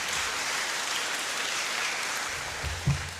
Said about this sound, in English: Can we please give these groups a round of applause?